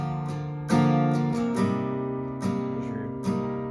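Acoustic guitar strums the bridge chord progression of the worship song Bless God, a few ringing chords struck in sequence and left to sustain, close and alone.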